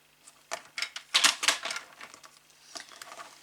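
Scissors or a cutter slice through a paper strip at a craft table, a series of close, crisp snips and rustles clustered in the middle, then quieter paper handling.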